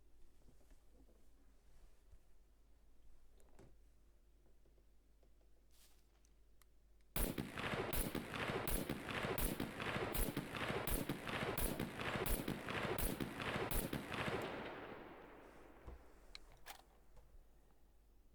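Rapid series of about a dozen loud, evenly spaced rifle shots from an SVD in the survival game SCUM, a sharp burst lasting several seconds after a quiet stretch, then fading back to low ambience.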